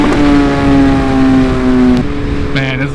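A 2019 Suzuki Hayabusa motorcycle engine drones loudly with strong harmonic tones while accelerating under a rider, mixed with wind rush. The pitch shifts abruptly partway through, as if changing gear.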